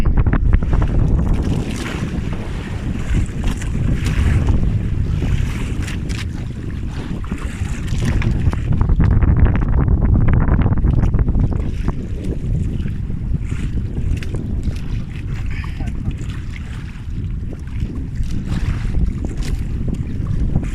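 Small fishing boat out at sea in rough waves, with loud, continuous wind buffeting the microphone over the engine and the crash of water against the hull throughout, with no talk.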